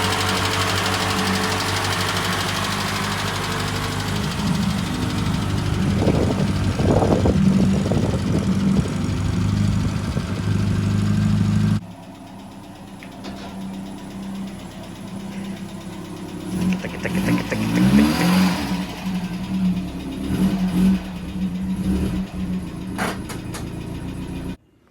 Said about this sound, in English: my dad's just started the car up to get the coolant running through the system